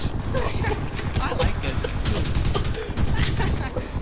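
Automatic shotgun fire in the video game Crysis 3 rattles out in rapid, dense bursts, loud and close, with a voice talking over the blasts.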